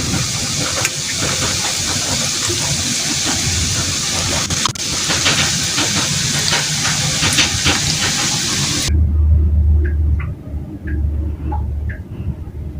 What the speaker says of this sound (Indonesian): Goreng di api besar sedang aja ya teman-teman, ini karena yang penting minyaknya itu udah panas